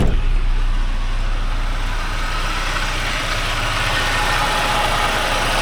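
A stock 1994 Chevrolet Beretta Z26 with the Quad 4 engine idles steadily and close by, a continuous low rumble with a hissing wash on top and no voices.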